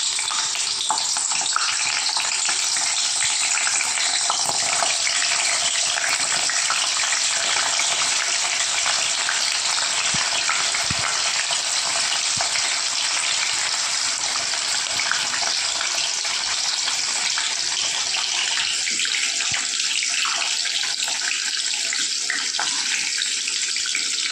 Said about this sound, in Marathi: आता आपण पनीर फ्राय करून घेऊया मीडियम फ्लेमवरती पनीर फ्राय करून घ्यायचं आहे